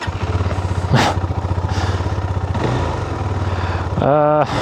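A Husqvarna Svartpilen 401 motorcycle runs with a steady, loud single-cylinder idle thrum that holds throughout, then rises into a brief throttle blip near the end; some faint rustling is heard around the bike.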